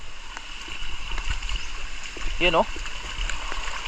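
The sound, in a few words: strong rushing water after heavy rain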